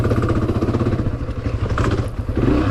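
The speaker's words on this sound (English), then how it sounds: "Bike's still lugging super low." A Honda CRF250F dirt bike lugs at low revs during a hare scramble race with a mechanical failure, its engine chugging in a loud, close, rough pulsing beat with clattering throughout.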